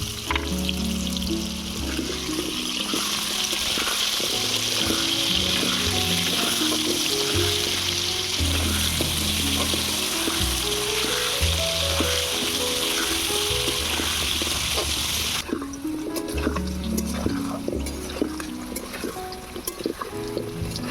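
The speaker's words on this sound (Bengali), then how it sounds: "পেঁপের সঙ্গে গাজরগুলোও ভেজে নেব।" Papaya and carrot pieces frying in hot oil, a loud, dense, continuous sizzle with intermittent tonal background music, easing slightly in the final seconds.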